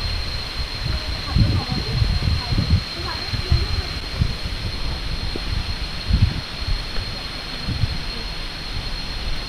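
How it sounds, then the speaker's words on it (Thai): Na Mueang waterfall on Koh Samui, surrounded by large trees, gives a steady, even rush of falling water throughout, with voices talking under it and occasional low thumps. "อ้นี่น้ำตกหน้าเมือง"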